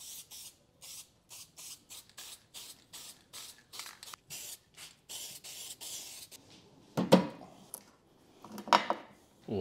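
Repeated short hisses of an aerosol can spraying enamel paint onto wiper arms, bursts in a steady rhythm with brief pauses, close by, followed by a couple of louder handling clatters.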